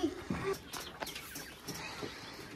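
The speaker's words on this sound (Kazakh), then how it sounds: "Үйде осындай құс бар бізде тағы да." A pet bird at home gives a few short chirps close by, brief and high-pitched, mixed with faint household noise and some talking.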